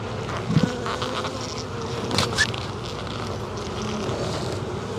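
Honeybees swarming at an open Long Langstroth hive during a brood frame inspection, a dense continuous buzz close to the microphone with individual bees droning past, light wind noise, no speech.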